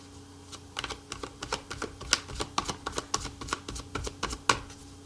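Tarot cards are pulled one by one from a deck, making crisp, irregular clicks and snaps at close range, fairly quiet, with no voices.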